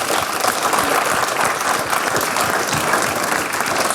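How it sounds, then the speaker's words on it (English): Awards ceremony audience giving a sustained round of applause, dense even clapping from a large crowd filling the whole stretch, loud and steady without speech. "So a massive round of applause for everyone."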